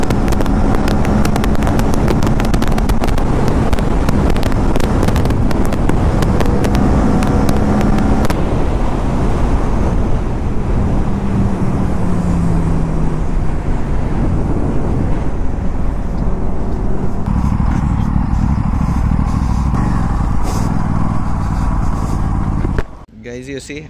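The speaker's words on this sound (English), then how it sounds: "The bikes are just cruising on the highway." A group of RS 457 motorcycles cruises along a highway, a loud continuous engine drone with heavy wind rush that holds steady throughout, then cuts off abruptly near the end.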